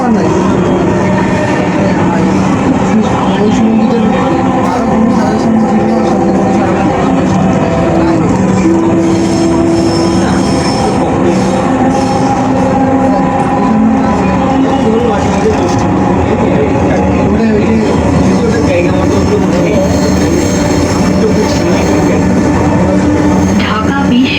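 Steady rumbling of a Dhaka metro train running along the track toward Dhaka University station, a continuous loud hum with faint voices mixed in throughout.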